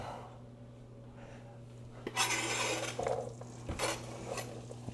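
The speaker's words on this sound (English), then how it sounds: "the oil is definitely hot enough. So we're gonna go ahead and get these sauteed down" Vegetables sautéing in hot oil in a pan for vegan pulled pork, a low steady sizzle with louder bursts of stirring and pan scraping partway through, close by.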